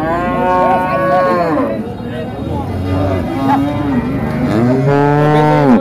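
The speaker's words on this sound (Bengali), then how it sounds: "অনেক গাভী আছে দেখেন, সুন্দর সুন্দর গাভী।" A dairy cow at a cattle market in Dhaperhat, Bogura, moos loudly and close by, one long drawn-out call at the start and another rising moo near the end, with rustling between.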